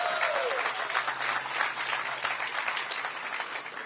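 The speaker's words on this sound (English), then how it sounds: "Yes, please give a round of applause for that" A crowd at the ribbon cutting for a new Ward 8 entertainment and sports arena claps warmly in dense, sustained applause, with a faint tone briefly sounding near the start.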